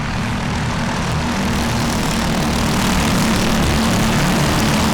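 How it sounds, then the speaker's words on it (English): Thirty-one racing karts with sealed Briggs 206 engines sit idling at a standing start, a loud, steady mechanical drone with buzzing low end holding evenly throughout, no voices. "The engine that they run in this, the Briggs 206, it's a sealed motor"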